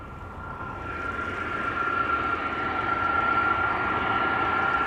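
A Delta Airbus A330, about sixteen years old, takes off from the Polderbaan runway at Amsterdam Schiphol, its jet roar a steady broad rumble with a thin whine, growing gradually louder from a distance.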